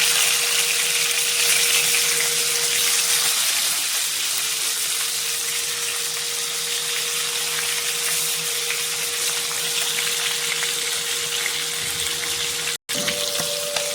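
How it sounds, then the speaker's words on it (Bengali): Tilapia fish fry in hot mustard oil, making a loud, dense, continuous sizzle that holds steady for several seconds with a brief cut near the end, and no voices. "তো সরষের তেল গরম হয়ে গেছে, মাছগুলো দিয়ে দেবো।"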